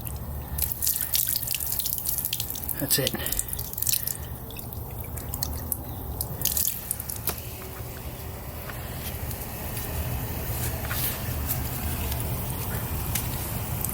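Water dripping and trickling through a clogged heater core on an MK6 GLI, irregular close drips and splashes over a constant wet hiss, with a brief voice speaking.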